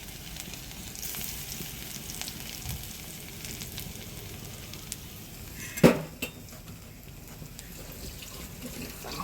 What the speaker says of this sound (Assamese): এয়া দেখিছে, অকণমান জ্বলাই দিছোঁ নহৰুখিনি